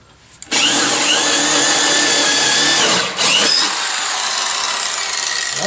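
A power drill boring a hole during a home-built motorcycle stair elevator project: the motor starts abruptly and runs loud and steady, dips briefly near the middle, then resumes under load, close to the listener, with no voices.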